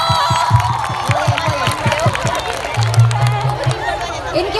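Audience at a college concert in Lahore applauds and cheers in a loud, dense burst of clapping, with shouts and crowd chatter mixed in.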